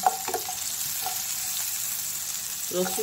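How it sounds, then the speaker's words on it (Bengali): Cashews, garlic, ginger and tomato sauté in a pan for paneer butter masala, giving a steady soft sizzle with a few stirring scrapes and clinks at the start and end. "আছে কাজু বাদাম আছে টমেটো, এগুলো হালকা সতে করে নিচ্ছি"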